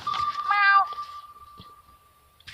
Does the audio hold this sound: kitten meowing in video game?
yes